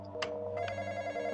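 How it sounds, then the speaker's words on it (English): A telephone rings in the Roblox horror game The Intruder, a steady electronic bell tone repeating through the short moment, clear and fairly loud against a low background hum. "The phone!"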